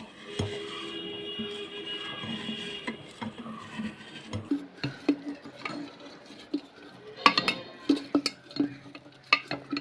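Wheat, spices, yeast, sugar and banana for banana wine are mixed together in a container, with scattered scraping and knocking strokes that are fairly close and moderately loud, with no talk over them.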